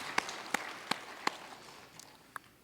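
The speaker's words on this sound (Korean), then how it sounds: "감사의 박수를 하나님께 드리겠습니다." A church congregation claps in thanks during a worship service, a few sharp, separate claps ringing out near the front over a quiet, low murmur of scattered hands that fades toward the end.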